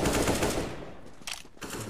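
Rapid automatic gunfire from a 5v5 competitive shooter game, dense bursts of shots loud and close, with a short break before firing resumes.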